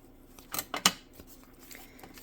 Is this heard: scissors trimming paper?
yes